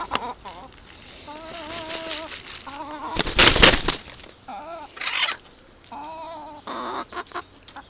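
A hen clucks repeatedly in short, rising calls, close by, with a brief loud rustling burst midway, in a garden.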